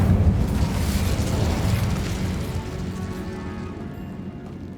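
An Incendio fire spell erupts in Hogwarts Legacy with a loud, deep booming blast that rolls on as a rumbling roar, then slowly fades over several seconds.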